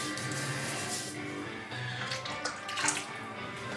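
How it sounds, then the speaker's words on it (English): Water pours out of a container in a soft, splashy stream indoors, faint and uneven for a few seconds, with small splatter bursts near the end. "let's pour out the water, rub it in my hands"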